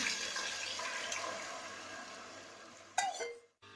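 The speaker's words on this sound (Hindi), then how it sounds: "अब इसके अंदर हम ये गुड़ का जो शीरा हमने बना के रखा हुआ है" Sweet jaggery syrup poured into a pot of fennel-seasoned preparation while cooking jaggery rice, a steady liquid splashing and pouring that runs for a few seconds, then a brief clatter before it stops.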